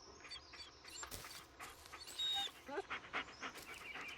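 Dog panting in the horror video game Blair Witch, quick rhythmic breathy pants close to the listener, broken by small whimpers and faint game ambience.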